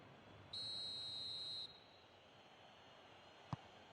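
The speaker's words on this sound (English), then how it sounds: "Whistle's gone, that's foul." A referee's whistle in a football video game gives one steady, shrill blast lasting about a second over quiet crowd hiss, followed later by a brief click.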